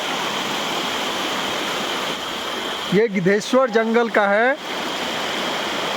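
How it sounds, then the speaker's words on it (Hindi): Giddheshwar waterfall in Jamui pours between hills as a steady, even rush of falling water, with someone speaking briefly over it midway. "पहाड़ी के बीच में ये झरना है"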